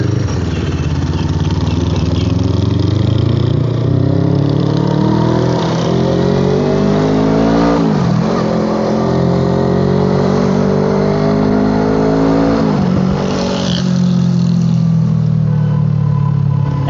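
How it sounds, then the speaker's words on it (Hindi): A Suzuki Inazuma 250 motorcycle engine pulls at around 50 to 60 km/h, its loud droning note rising smoothly through two gear changes with brief dips, close and continuous over wind rush. "मैं ज़रा सा एक्सेलेटर दे रहा हूँ, गाड़ी जो मोटरसाइकिल है 50 पे आराम से चले जा रहा है, 50-60 पे।"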